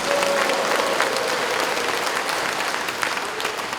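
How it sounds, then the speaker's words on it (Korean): An audience at a Korean Confucian leaders' gathering breaks into dense, steady applause with a few cheers. The clapping fills the whole stretch at an even level, and no one speaks over it. "성원의 함성과 함께 성원의 박수 부탁드리겠습니다"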